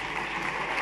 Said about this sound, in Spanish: un fuerte aplauso para que vayan entrando los componentes